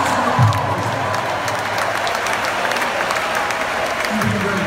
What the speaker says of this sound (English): So give yourselves an applause.